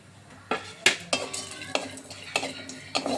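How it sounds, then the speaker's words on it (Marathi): Almonds roasting in ghee in a pan are stirred with a utensil, which scrapes and clatters against the metal in about eight separate strokes. A soft sizzle runs underneath, and no one speaks. "हे जे बदाम आहेत ना, ते साजूक तुपामध्ये चांगले भाजून घेते."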